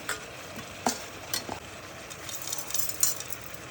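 Soaked soya chunks (meal maker) are tipped into a pan and stirred, giving a few soft clinks and scrapes over a quiet background hiss.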